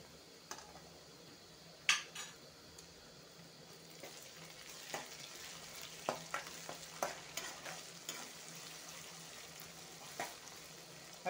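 Ginger garlic paste frying in a pan for a cucumber sabzi, a quiet soft sizzle under scattered clicks and scrapes of a spoon stirring against metal.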